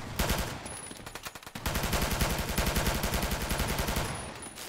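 Sustained automatic AK-47 fire in the James Bond Quantum of Solace video game, a dense rapid rattle of shots with a brief pause before a longer unbroken burst, loud and close.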